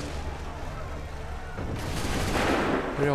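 Massed musket volleys and artillery fire in the Assassin's Creed III video game, a steady dense rumble of battle that swells in the last second and a half, with no talk.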